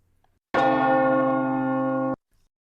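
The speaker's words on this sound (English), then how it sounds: "So let's pick up the church bell." A single church bell strike rings out loud and close, sustaining a steady harmonic tone for about a second and a half before being cut off cleanly, with no talking.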